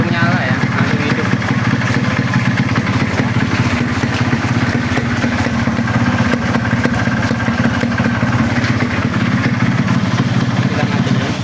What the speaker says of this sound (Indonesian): sekali pancal langsung hidup ya ini motor ya